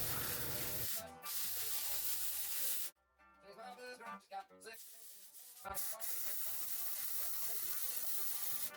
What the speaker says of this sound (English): I'm just gonna come in and fully weld all this up